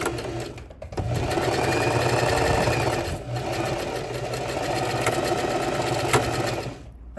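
A sewing machine runs steadily and loudly, stitching a belt loop with a continuous rapid whirring drone, briefly easing near the start and again around the middle.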